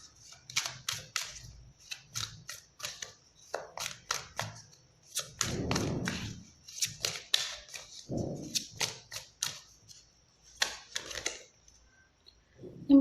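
Tarot cards are drawn and shuffled in quick bursts of crisp snaps and flicks, close and clear. Soft shuffling and a few low rustles come between them.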